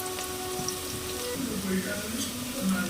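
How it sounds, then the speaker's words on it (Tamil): Onions sautéing with curry masala, cinnamon and spices in oil for prawn biryani: a close, steady crackling sizzle throughout, with a faint voice underneath. "இதோட நம்ம கறி மசாலா பட்டை மற்ற எல்லா ஜாமானையும் அதை போட்டு நல்லா எண்ணெயில் வதக்க வேண்டியதான்"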